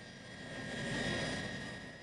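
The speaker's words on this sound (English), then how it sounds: "the three Soloviev engines roared with their distinctive deep sound" Deep, steady roar of a Tupolev Tu-154's three Soloviev jet engines at takeoff power on a rainy runway, a broad sustained rumble swelling slightly and then holding, with no voices.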